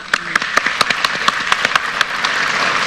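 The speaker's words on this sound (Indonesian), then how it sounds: "Beri tepuk tangan buat Dokter Trivena" Studio audience on an Indonesian Dr. Oz health talk show claps in a sparse, rhythmic pattern of distinct hand claps, then the claps build into a fuller, continuous applause toward the end.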